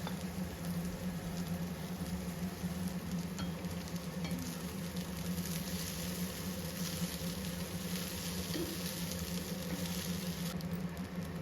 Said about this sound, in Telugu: రైస్ చక్కగా మిక్స్ అయ్యేలా మిక్స్ చేసుకొని ఒక అర నిమిషం పాటు చక్కగా వేపుకోవాలి.